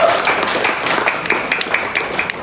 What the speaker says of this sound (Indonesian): Tepuk tangan untuk Cianjur.